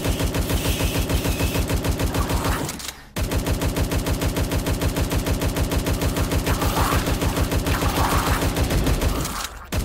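Rapid automatic gunfire with fire bullets in the Tesla vs Lovecraft arena shooter, a loud, continuous stream of shots that breaks off for a moment near the three-second mark and then resumes.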